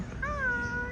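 A cat meows once in a drawn-out, rising then falling call, clear but moderately distant over a steady background hum.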